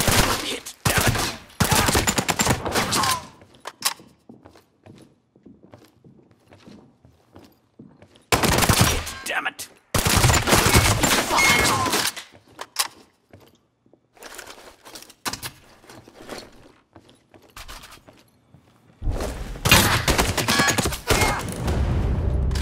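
Gunfire in the video game Sniper Ghost Warrior 3 comes as loud, dense automatic bursts in several clusters, separated by quieter stretches of scattered single shots and faint thuds.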